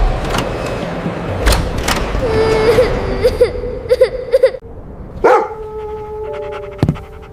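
A dog barks several times and pants heavily, close by, followed by a few sharp high yelps and a squeaky whine near the end.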